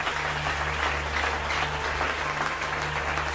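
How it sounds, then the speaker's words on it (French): Applause from a church congregation during a worship service, a steady wash of clapping over a low hum, fairly even in level throughout. "Applaudis Jésus."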